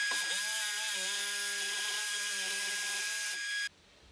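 A reciprocating saw cuts openings in a wooden built-in cabinet, a loud, steady whine with a rough rasping edge that runs continuously for over three seconds before stopping abruptly.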